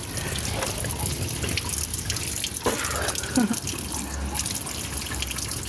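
Water runs steadily from a public fountain in Estella, a dense, close splashing wash that continues throughout, with a few brief handling knocks and no talking.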